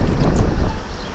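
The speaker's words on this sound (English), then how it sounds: "This is getting windy." Cold wind gusting outdoors, a loud rumbling buffet against the microphone that eases off slightly toward the end, with no voices.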